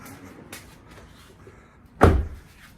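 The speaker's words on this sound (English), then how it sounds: "Close the door." Door of a 2019 Subaru Outback with a tailgate closing fault, shutting in a single loud, solid thud close by after a quiet stretch of soft background noise.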